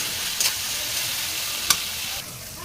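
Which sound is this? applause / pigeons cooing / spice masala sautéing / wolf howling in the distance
spice masala sautéing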